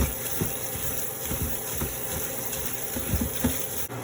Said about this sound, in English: So I'll wash my rice with warm water.